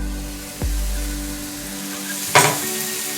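Vegetables sauté in a pan for a bell pepper ring omelette, giving a steady, close, continuous sizzle with a low hum underneath and one brief louder scrape or stir near the end.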